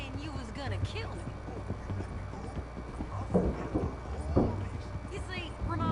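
Horse hooves clip-clop at a steady walking pace in the Red Dead Redemption 2 game, a prisoner tied up on horseback on the way to Saint Denis, heard close under continuous voices and ambient game sound.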